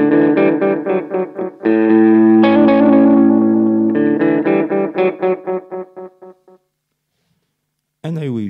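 Electric guitar played through a TC Electronic Echobrain analog delay pedal, loud sustained chords and picked notes repeating with echoes that fade out into silence, then a fresh chord strikes near the end.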